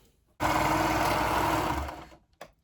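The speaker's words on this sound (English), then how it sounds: "So I'm going to go sew it, and I do line up my sleeve seam with the seam on my cuff as well." Sewing machine stitching a cuff onto a garment sleeve, one loud, steady motor run of about a second and a half that slows toward the end, then a brief second burst.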